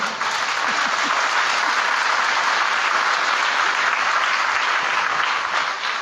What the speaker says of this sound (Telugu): ఆ పక్కన ఉన్న వాళ్ళు చెవు కాడికి వెళ్ళి గట్టి చప్పట్లు కొట్టండి.